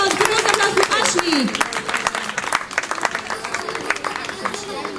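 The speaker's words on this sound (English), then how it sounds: "Give a round of applause for Ashley" A crowd in Menorca applauds steadily, many hands clapping together, with scattered cheers and voices mixed into the noise.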